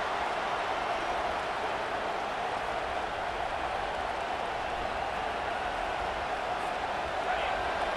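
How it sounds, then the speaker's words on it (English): A dense, steady roar of a large football stadium crowd at Clemson versus Tennessee fills the whole stretch, loud and unbroken, with no pauses or distinct voices standing out. "Listen to this crowd just shaking the girders of this place"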